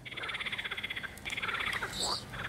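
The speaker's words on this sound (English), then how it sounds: "Ribbit, ribbit, I'm a frog." A frog croaks in a fast, rhythmic series of close pulses, then again after a short pause, with faint chirps mixed in.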